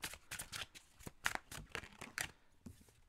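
Tarot cards drawn one by one from a deck and laid down on a surface, soft quick papery slides and taps in an irregular rhythm, quiet and close, with no voice over them.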